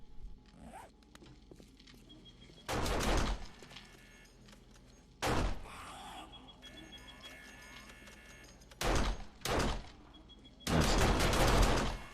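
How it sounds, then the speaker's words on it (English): Automatic turrets firing in 7 Days to Die come as several loud, rapid bursts of rattling shots, some short and some longer, with quieter stretches of background between them. "Looks like the turrets will have an issue with shooting our little walkways there"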